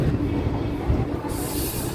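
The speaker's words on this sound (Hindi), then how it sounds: "फाइनली अपनी ट्रेन जो है ऑन राइट टाइम शाम के 4:35 पर सिकंदराबाद जंक्शन रेलवे स्टेशन से डिपार्ट करती हुई।" Passenger train 03429 pulls out of Secunderabad Junction, a steady low rumble of wheels and carriages that holds close and loud throughout.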